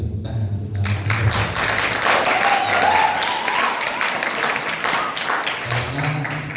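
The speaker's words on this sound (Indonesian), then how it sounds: "Kita kasih tepuk tangan untuk narasumber." A seminar audience applauds a guest speaker, a steady wash of many hands clapping that holds for several seconds at even loudness, with some voices murmuring underneath near the start and end.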